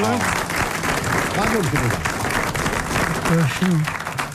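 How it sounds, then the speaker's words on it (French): Studio audience on a French radio show breaking into applause, a dense wash of clapping throughout, with a voice speaking over it at moments. "Et vous applaudissez Monsieur Naudin de Charleville."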